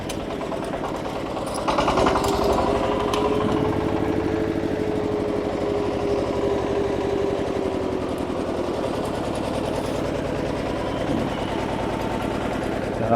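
Two-wheel power tiller engine runs steadily while reversing on a road, a close, loud chugging putter that rises slightly in level after about two seconds and holds, with no talking heard.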